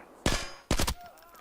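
Two sharp, loud gunshots from the video game Arena Breakout: Infinite crack about half a second apart, each with a short decaying tail, and a faint tone follows. No one speaks.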